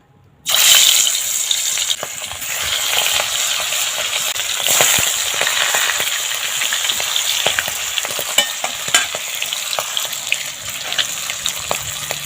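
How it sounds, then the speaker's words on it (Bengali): Pieces of pangas fish drop into hot oil in a wok and burst into a loud, dense sizzle that keeps crackling and popping steadily up close, with no one speaking. "কড়াতে তেল দিয়ে দেবো তেলটা একটু চাড়িয়ে দেবো এবার মাছগুলো দিয়ে দেবো"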